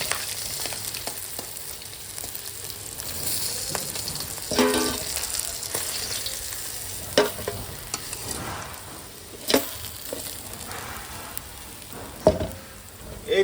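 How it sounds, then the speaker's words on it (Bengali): Pieces of aar fish fry in hot oil with a soft, continuous sizzle, broken by occasional sharp clinks and scrapes of a utensil as the fried fish is lifted out. "মাছ ভাজা হয়ে গেছে আমার, লাল লাল করে"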